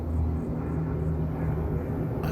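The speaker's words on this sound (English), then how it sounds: "So this is the plane that does the" An aircraft dropping fire retardant during a wildfire passes overhead as a steady, loud low engine drone and rumble that holds for the whole stretch.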